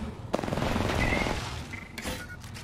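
Rapid automatic gunfire in the Apex Legends video game as a civilian is gunned down, a burst of bright repeated shots under game sounds, with a few sharper cracks near the end.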